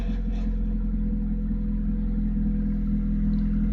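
A Honda RD2 with 151,000 miles and a JDM engine and transmission swap idles steadily, a loud, even low rumble that runs unchanged and close throughout.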